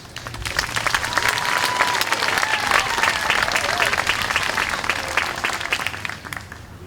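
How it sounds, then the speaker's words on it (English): An audience at a 2022 sixth-grade moving-on school ceremony applauds its teachers with loud, sustained clapping from a crowd that fills the whole stretch. "And can we just get a round of applause for our teachers?"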